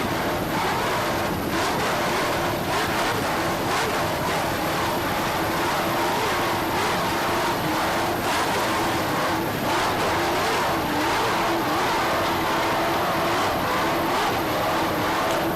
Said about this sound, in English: This is a 38-foot Cougar catamaran powered by twin 700 horsepower Merc Cruiser inboards with Merc Cruiser drives.